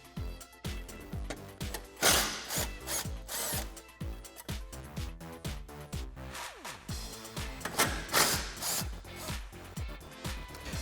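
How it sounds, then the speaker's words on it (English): Power driver with a T30 Torx bit backing out bolts near a support bar on a Jeep Gladiator JT, a dense run of close, loud whirring bursts and clicking ratchet-like pulses repeating throughout with no talk. "For these bolts here, you're going to need a T30 Torx bit."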